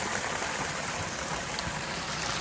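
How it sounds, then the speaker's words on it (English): A small pondless garden waterfall splashes into a catch pool, producing a steady, close wash of falling water with no pauses. "It drops into a pool which captures the splash."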